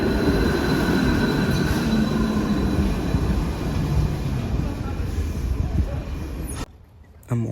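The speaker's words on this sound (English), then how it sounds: "trains just kept coming, despite the 10-minute frequency on both lines" Bergen Bybane light rail trains at a station, a loud steady rumble of wheels on track with high squeals and a tonal hum that cuts off abruptly near the end, with a voice faintly under it.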